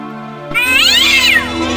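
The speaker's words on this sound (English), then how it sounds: "That one might have been an actual cat." A cat meows in the Indiana Jones and the Fate of Atlantis adventure game, one loud, clear, drawn-out meow that rises and falls over a steady background music drone.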